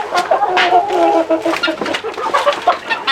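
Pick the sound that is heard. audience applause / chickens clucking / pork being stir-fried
chickens clucking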